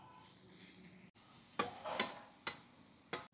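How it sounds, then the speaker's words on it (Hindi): Chopped tomatoes go into onions already well fried in a pan for a dhaba-style tawa paneer masala; a soft steady sizzle carries under four sharp scraping clatters of a spoon against the pan. "आपण आता याच्यामध्ये चॉप केलेले टमाटर घालून घेऊ"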